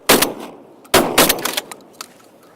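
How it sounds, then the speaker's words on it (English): Two loud shotgun blasts ring out during an eider duck hunt, the first close and sharp, the second following about a second later with a short echoing tail and scattered faint clicks afterward. "Some first shot went behind him."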